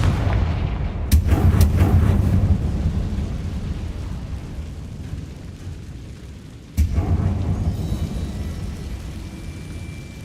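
The Confringo blasting spell in the Hogwarts Legacy video game: a sharp explosive boom bursts into deep rumbling, fades, then a second loud blast follows with crackling debris.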